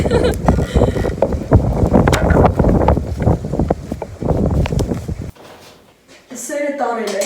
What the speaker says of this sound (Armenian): այս հենց կռիվ տվի ես քամու հետ